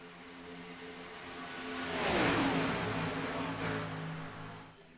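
Race cars sweep past on the Talladega superspeedway, an engine roar swelling from a distance to a loud pass with a falling pitch, then fading away, with no voices.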